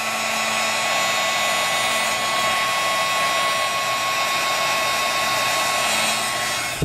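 A heat tool blows a steady, loud, even whir as it melts embossing powder on paper, running without pause and with no voices.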